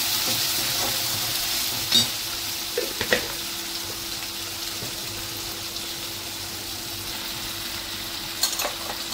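Ginger garlic paste frying in a pan, a steady soft sizzle throughout with a few light scraping stirs, close and moderately loud, no talking.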